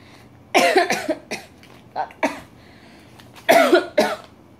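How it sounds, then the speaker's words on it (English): Several harsh coughs come in two clusters, close and loud, with short quiet gaps between them. "Coughing."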